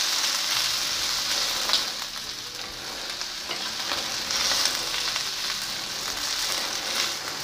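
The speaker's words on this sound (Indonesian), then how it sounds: "Kemudian langsung saja tumis daun kucai hijau dan daun kucai kuning" Green and yellow chives sautéing in a hot pan, a steady loud oil sizzle with occasional stirring scrapes, continuous and close with no voices.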